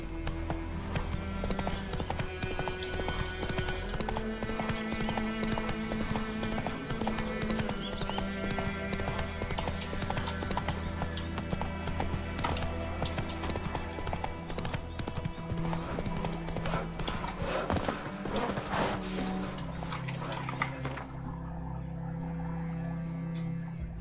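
Horse hooves clip-clop in a steady, repeated rhythm in The Witcher 3, under continuous game music and ambience, with an occasional whinny.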